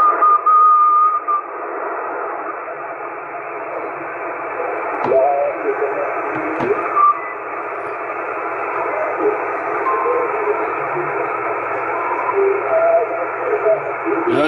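Over a CB radio channel, someone whistles as interference, a thin tone drifting through band-limited static and hiss, with brief crackles and clicks breaking in partway.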